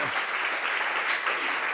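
A church congregation claps steadily in sustained applause, a dense continuous wash of hands filling the room with no pause.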